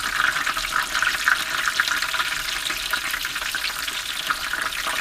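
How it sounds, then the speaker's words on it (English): Chicken cordon bleu pan-fries in hot oil, a loud, dense, continuous bubbling sizzle that holds steady from start to finish with no voices. "as well as I can hear it, you know, that it's kind of bubbling a little more."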